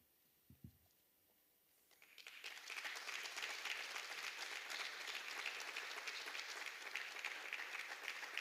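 An award ceremony audience bursts into applause after a brief quiet moment with a faint thump, the clapping building quickly into a dense, steady ovation that holds for several seconds.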